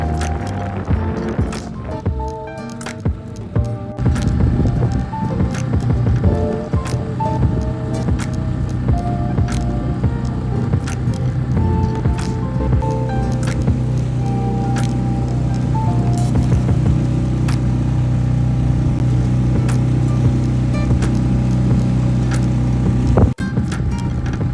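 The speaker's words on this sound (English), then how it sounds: "You can tell from the sound of the engine just how much harder we were having to push to get up to speed against the current and wind." A boat's outboard engine drones steadily as it pushes upstream against current and wind on the Truro River in Cornwall, a continuous labouring hum with wind buffeting and occasional knocks, heard alone without talk.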